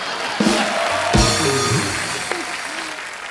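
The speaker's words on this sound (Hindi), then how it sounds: "ठोको ताली।" Brief clapping from a small studio audience at a TV comedy show, mixed with voices and some cheering, fairly loud and close.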